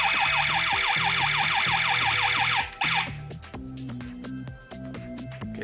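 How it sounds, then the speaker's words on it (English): A SecurityMan Air-AlarmIIE home alarm panel's loud electronic panic siren wails in rapid repeating sweeps, cut off abruptly near three seconds, then quieter beeps and tones continue alone. "it will create a panic sound and emit a siren from your panel"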